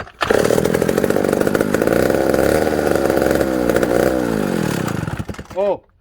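A McCulloch 1-60 chainsaw fires up almost at once and runs loud and close with a rough, revving two-stroke roar for about five seconds, cuts out, then gives one last short rev.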